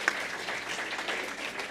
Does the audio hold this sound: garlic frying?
no